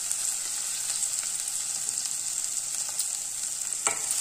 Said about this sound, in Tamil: நல்லா கத்திரிக்காயும் ஓரளவு வதங்கிடுச்சு